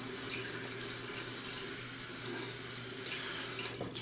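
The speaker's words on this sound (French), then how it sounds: "Mettre un peu d'eau." Water runs from a tap into a shaving bowl to build lather from a honey and black tea scented shaving soap, a soft steady trickle close by with a couple of faint knocks.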